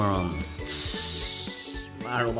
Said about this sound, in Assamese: তাৰ মাজতে এইফালে দাইলটো উঠাই থৈছোঁ সেই চিটি মাৰো